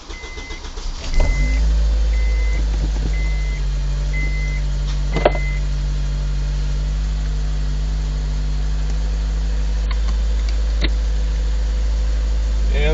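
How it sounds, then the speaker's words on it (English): A Honda K20 engine swapped into a Honda Insight cranks and catches cold, then settles into a steady, even idle close by, with a deep constant rumble and a few faint clicks over it. "And that's what it sounds like when it's cold. It's a perfect sounding engine."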